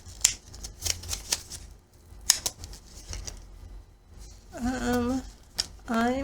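Scissors snip through fabric being cut for a zippered tote bag, a quick run of crisp, close cuts in an uneven rhythm, with a voice talking over the last second or so.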